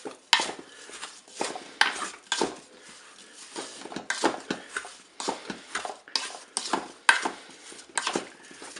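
Apricot pieces and sugar being mixed in a Cookeo cooker bowl, with repeated scraping and clacking strokes of a utensil against the bowl in an uneven rhythm, close and fairly loud.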